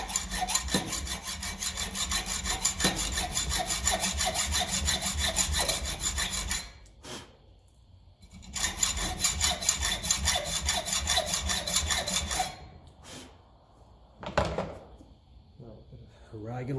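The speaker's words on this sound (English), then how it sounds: "A rag and rub off the grease." A rag rubbing grease off a part of a 1957 Ferguson 35 TVO tractor, long continuous rhythmic rubbing strokes, loud and close, pausing twice with a few brief knocks between bursts.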